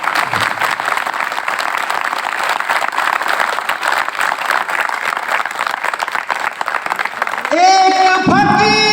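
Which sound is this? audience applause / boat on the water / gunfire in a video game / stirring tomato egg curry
audience applause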